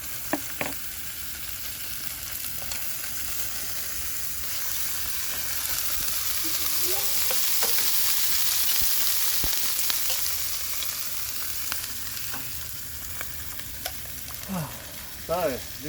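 Onions fry in a pan at a backyard cook-up, a steady close sizzle with some crackle that swells midway. Occasional scrapes and clicks sound over it.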